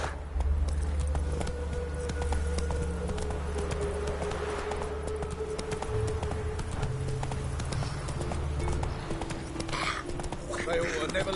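Roach the horse trotting in a video game, with steady rhythmic clip-clop hooves running the whole time, close and moderately loud over a low ambient hum.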